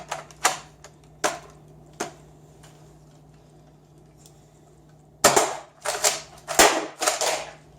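A Nerf blaster fires Elite foam darts. Three sharp, spaced shots come first, then a quick loud burst of several more shots in rapid succession over a faint steady hum, with no voices.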